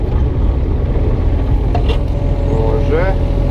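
A tractor pulling an 80 cm leveling board drives in reverse while spreading piles of soil, its engine a loud, close, continuous low rumble that holds steady throughout.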